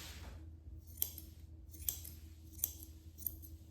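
Straight scissors snip through a doodle's coat during grooming, four crisp close-up metallic cuts spaced roughly a second apart over a quiet background.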